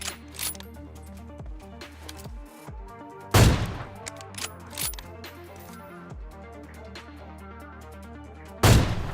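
AWM sniper rifle shots ring out in PUBG Mobile, three sharp, loud blasts spaced several seconds apart over a busy bed of quieter in-game clicks and distant gunfire.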